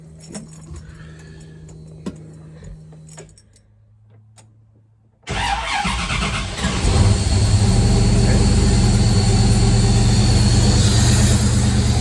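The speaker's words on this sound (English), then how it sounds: "It's probably fine to start the car up." Keys jangle briefly, then a car engine cranks and catches, settling into a loud, steady idle that continues to the end.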